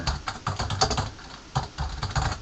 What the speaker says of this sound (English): type something into the comment box and the comment will automatically appear there.